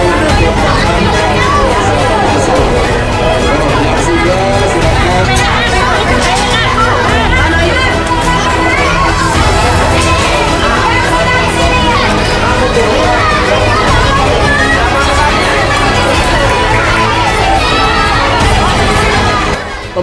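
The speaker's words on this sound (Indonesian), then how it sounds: "banyak warga berdatangan silih berganti sehingga membuat panitia kewalahan dan terjadi kerumunan" A dense, loud crowd of residents of Kelurahan 29 Ilir, Palembang, jostling for Asyura porridge on the 10th of Muharram, with constant overlapping chatter, children's shouts and excited calls filling the space.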